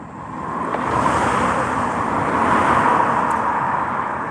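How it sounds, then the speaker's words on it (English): Road traffic rolls past during a storm water drain investigation, a continuous broadband roar that swells and eases as vehicles go by, fairly loud and with no talking. "There's a bit of traffic around."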